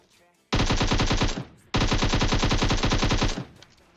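Cheap guns blaze in PUBG, two long bursts of rapid automatic fire, loud and close, the first about a second long and the second about two seconds, separated by a short gap.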